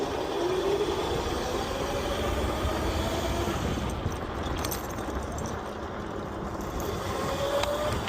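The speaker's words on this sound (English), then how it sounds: "I'm on my dirt bike" A dirt bike engine runs steadily throughout at a park, a continuous rough motor drone with wind buffeting, fairly close and without pauses.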